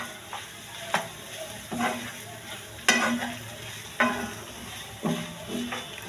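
Taro greens with a hilsa fish head and torn lemon leaf being stirred and fried in a pan: a steady sizzle broken by regular spatula scrapes about once a second, close and clear with no talking.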